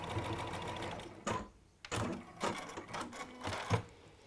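A sewing machine stitches over pinned fabric in short, quiet bursts of rapid mechanical clatter separated by brief pauses, close and alone with no voices.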